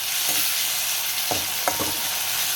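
Steady frying sizzle of green chilies and tomatoes fills the clip, with a few brief scraping stirs in a pan; no voices.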